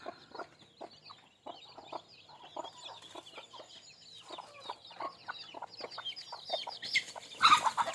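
Free-range chicks peep busily in quick, high chirps while a mother hen clucks nearby, a soft, steady farmyard chatter that swells a little toward the end, with no talking.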